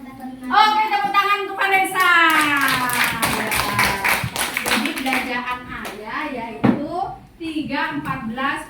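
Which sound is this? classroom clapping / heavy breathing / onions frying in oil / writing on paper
classroom clapping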